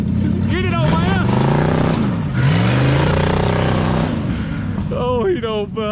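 A 1973 Mercury Comet GT, out on its first drive in 35 years, rumbles past on a dusty road, engine note rising and falling as it goes by, while people talk and shout excitedly over it.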